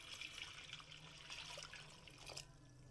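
Tap water pours steadily into a cooking pot, a continuous splashing, trickling rush heard close up with no voices.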